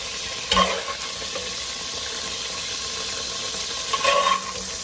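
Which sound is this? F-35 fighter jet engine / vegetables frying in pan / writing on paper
vegetables frying in pan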